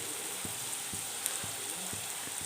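Onion frying in a pan for North Karnataka style togari kalu palya, with a quiet, steady sizzle and a few soft spoon knocks against the pan at roughly half-second intervals.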